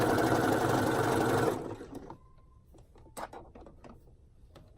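Sewing machine stitching stretched elastic into a swimsuit bottom, a fast dense mechanical whir for about a second and a half, then it stops and scattered light handling clicks and taps follow.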